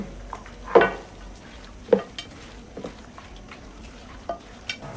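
Marinated kacchi biryani ingredients are mixed by hand with fried onion oil in a pot, giving soft squelching and stirring sounds with a few sharper scrapes and clinks against the vessel.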